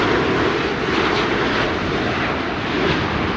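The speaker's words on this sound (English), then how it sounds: "Next up, another Delta A330" Delta Airbus A330 airliner at Amsterdam Schiphol Airport in stormy weather, a loud, steady jet engine roar close by the runway threshold, continuous and unbroken.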